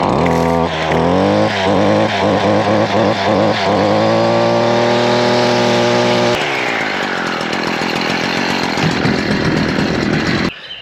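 A Stihl FS70R gas string trimmer's two-stroke engine runs loud and steady nearby, its pitch holding high and then dropping as the throttle eases off, with a brief cutoff at the end.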